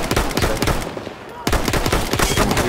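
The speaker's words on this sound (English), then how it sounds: "I'm shooting at him." Rapid gunfire from the Battlefield 1 video game, dense bursts of shots crackling loudly with a brief pause midway before firing resumes just as heavily.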